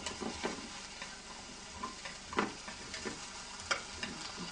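Broccoli is stir-fried in a pan, giving a continuous soft sizzle with frequent light scraping and tapping of a utensil against the pan in an uneven rhythm, close and fairly quiet, with no voices.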